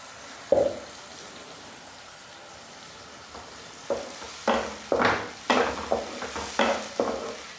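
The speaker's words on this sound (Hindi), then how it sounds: "और इसको इस तरह से चलाते हुए मसाले को पकाएंगे।" A spoon scrapes and stirs masala with tomato and a splash of water in a pan over soft background sizzling, with a single clack first, then a steady rhythm of close, repeated stirring strokes.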